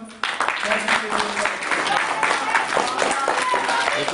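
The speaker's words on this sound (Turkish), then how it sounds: "Bir de hep beraber bir alkış yapalım" A group claps together at a mosque ceremony for children starting the Quran, brisk applause mixed with chatter and voices throughout.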